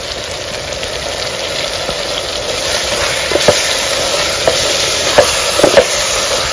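Chicken biryani masala with red chilli powder, bay leaf, cumin and cloves being mixed and fried in a pot outdoors on a farm, giving a steady loud sizzle with occasional scraping stir strokes.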